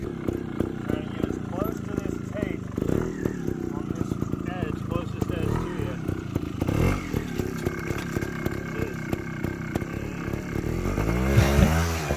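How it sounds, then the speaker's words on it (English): A trials motorcycle engine revs in a muddy grass yard while riding over an obstacle, a steady, close, throaty drone with repeated throttle blips that builds to a louder, rising rev near the end. "rev up the engine and go over an obstacle that's kind of imaginary there on your right"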